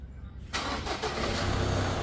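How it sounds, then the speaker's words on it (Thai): A Mazda BT-50 Pro pickup with a manual gearbox fault cranks and catches, its engine settling into a steady, fairly close rumbling idle after a quiet start, with no talking. "เดี๋ยวมาติดตามกันสตาร์ทเครื่อง"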